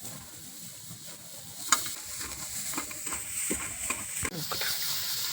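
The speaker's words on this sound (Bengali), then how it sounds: "পেঁয়াজটা আমি হালকা ভাজি" Onions fry in a kadai with a steady hiss and sizzle, broken by scraping stirs and a few sharp clinks of a spoon against the pan.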